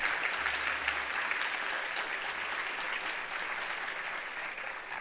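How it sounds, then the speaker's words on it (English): Applause from an audience at a friendship bench unveiling, a steady, dense wash of clapping that holds throughout, fairly close and with no voices over it. "I want to give Margot Rykoff a big round of applause"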